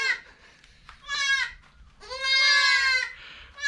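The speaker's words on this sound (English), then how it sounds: "Excellent video, black goats in a dark room." Several black goats bleat in a dark room on a farm in the Thai countryside, giving two loud, close, wavering calls with quieter bleating between them, and no one speaking.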